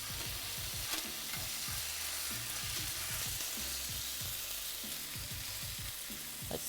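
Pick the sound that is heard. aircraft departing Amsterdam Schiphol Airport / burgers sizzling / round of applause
burgers sizzling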